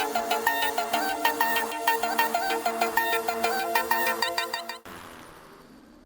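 A phone ringtone plays a bright, repeating melodic pattern for several seconds, then cuts off abruptly, leaving quiet background.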